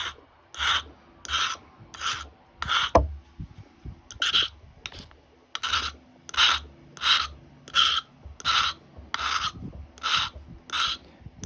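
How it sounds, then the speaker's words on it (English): A hand file rasps back and forth across a metal horseshoe nail notcher, shaping it in a steady series of about fifteen close, crisp strokes with short pauses between each. "And I'm just filing it to shape."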